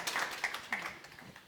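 Brief scattered applause from an audience at a business leaders' panel discussion, a few claps in a short, moderately faint burst with no talking over it.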